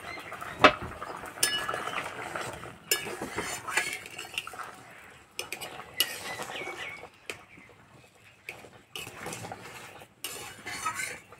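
A metal pot lid comes off with a sharp clink, followed by a run of utensil and pot clinks and scraping in a home kitchen where potatoes are boiling for an egg and red lentil dal; sharp, close, irregular knocks with no talk.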